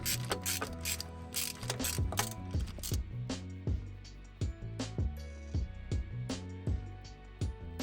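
A ratchet wrench loosening a starter motor bolt on a Toyota Hilux LN106 engine, a rapid string of close, loud metallic clicks in quick bursts with brief pauses between strokes.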